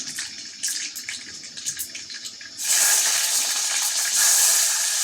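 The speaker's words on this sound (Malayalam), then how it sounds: "കടുക് പൊട്ടിക്കട്ടെ കേട്ടോ" Scattered crackles and pops give way to a sudden loud, sustained sizzling hiss as seeds splutter in hot oil close by.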